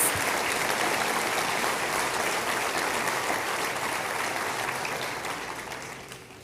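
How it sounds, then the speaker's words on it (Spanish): Applause from a church audience, a broad, even wash of many hands clapping at moderate distance, holding steady before tapering off near the end, with no voices on top. "Yo le daría a Dios un fuerte aplauso"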